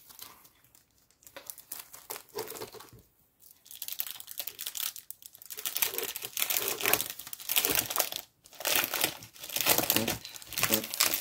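A scrapbooking supply package is opened by hand, its plastic wrapping crinkling and tearing in loud close bursts separated by short pauses, with faint speech mixed in at times.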